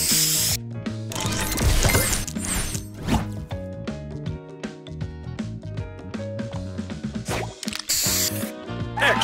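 Spray booster effect from the match-three video game Match Masters: hissing spray bursts and swishing rubs layered over bright, busy game music, loud and up front, with several sharp bursts at the start and end.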